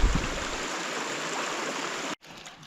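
Mountain river water rushes steadily in a close, loud stream near Hoverla in the Carpathians, its broad wash continuing until a brief cut, then resuming more faintly.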